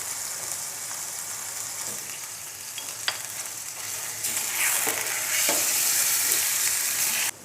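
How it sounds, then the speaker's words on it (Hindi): Bone-in chicken fries in a pot for a makhni handi, a close, steady sizzle with occasional spoon clinks and scrapes that swells louder partway through, with no one speaking. "थोड़ा सा इसको भून के"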